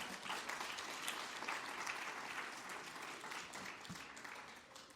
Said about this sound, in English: I would give her a round of applause